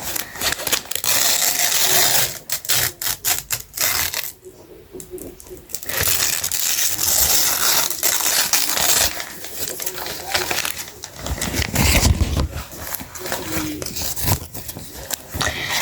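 Loud crinkling, ripping and rustling of packaging as tape is torn off a box holding a JBL GO speaker, with sharp tearing bursts and scraping handled close up, and brief talk partway through.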